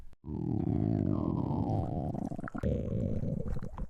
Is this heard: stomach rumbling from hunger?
yes